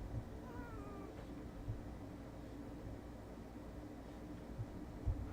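A faint, short cat meow, the kind used for the ghast in the Minecraft video game, rises once over quiet background hiss, with soft low thumps scattered around it.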